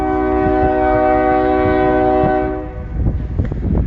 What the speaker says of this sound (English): CSX westbound, Fostoria, Ohio. First train.